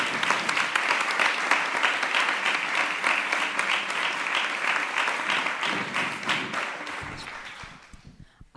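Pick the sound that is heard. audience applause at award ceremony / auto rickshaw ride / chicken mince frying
audience applause at award ceremony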